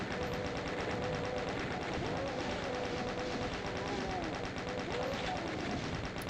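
Chaingunner enemy firing its rapid automatic weapon in the PC game Doom II, a dense continuous rattle of gunfire running the whole time amid other game effects, loud and steady.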